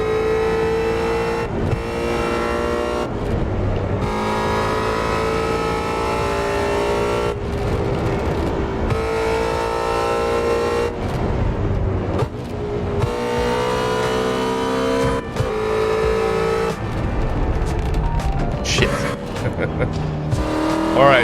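A 770-horsepower Ford Mustang GT350 in Assetto Corsa, its engine droning loud and steady through long high revs with brief dips at gear changes, running continuously under occasional talk.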